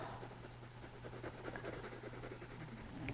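Coloured pencil shades on paper in fast rhythmic back-and-forth strokes, a soft close-up scratching that goes on without pause.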